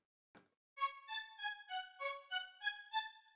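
Bright, unfiltered string stabs from a drum kit sample, eight even rhythmic notes in a rising and falling melody, clean and alone after a brief soft noise burst.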